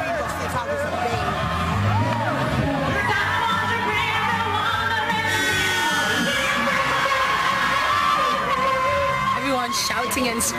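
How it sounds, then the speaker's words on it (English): A large studio audience at a live X Factor results show shouts, cheers and screams continuously, a dense roar of voices filling the whole stretch with no single speaker standing out. "Everyone shouting and screaming"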